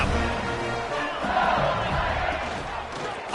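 Stadium crowd at a college football game roaring and cheering after a punt return, a dense, sustained wall of voices at steady loudness throughout with no clear break.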